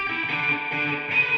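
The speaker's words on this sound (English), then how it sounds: "just the signal of like the amp hitting off of a wall and coming back to our ears" A washy, sustained guitar tone with only the reflected room sound of the amp bouncing off a wall, a distorted, smeared reverb tail lingering steadily without a clear attack.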